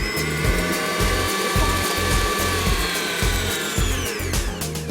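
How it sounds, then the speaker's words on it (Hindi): Electric beater whipping softened butter for cake icing, a steady loud motor whir with a regular pulsing beat throughout as the beaters churn through the butter. "इसको हम whip करेंगे के बीटर से"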